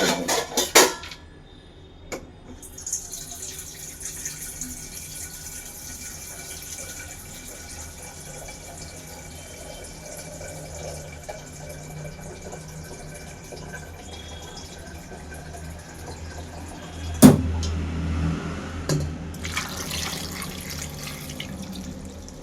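Tap water runs steadily into a kitchen sink while dishes are washed, a continuous close splashing stream with a few louder clatters and splashes near the end.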